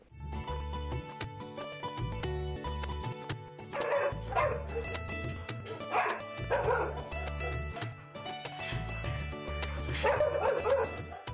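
About twenty dogs, Rottweilers, German Shepherds, Labradors, Pomeranians and terriers on a dog farm, bark and yip repeatedly in irregular bursts, with some whimpering, fairly distant and soft.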